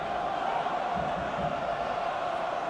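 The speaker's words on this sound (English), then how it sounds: "Hear the crowd getting behind them now." Stadium crowd at a rugby match between Ulster and Harlequins in the 2019 Champions Cup, a sustained roar of cheering and chanting from the distance, with a commentator's voice faintly underneath.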